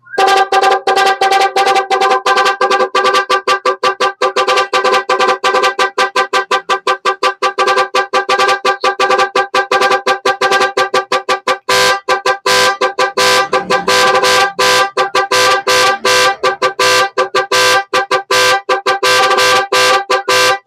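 A loud electronic car horn driven by a Nhay 3 Plus Pro music horn relay blares a fast, pulsing melody of rapid stuttering notes, continuing nonstop for about twenty seconds.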